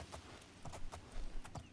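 Horse hooves clip-clop in The Elder Scrolls IV: Oblivion, a steady run of sharp hoof strikes at close range, evenly spaced and moderately loud, with no talk.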